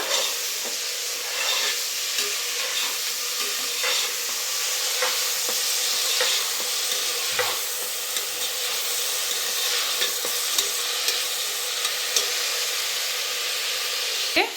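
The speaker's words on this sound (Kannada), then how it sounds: "ಹಾಗೆ ಪುದೀನ ಹಾಕಾಯಿತು. ಈಗ ಚೆನ್ನಾಗೆ ಮಿಕ್ಸ್ ಮಾಡ್ಕೊಂಡೋಣ." Mint stirred in oil in a frying pan while making a brinjal gravy, a steady close sizzle and hiss with scattered scraping clicks of the spatula, continuous throughout with no voices.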